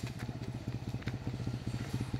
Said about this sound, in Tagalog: Mayroon ho pababa na motor.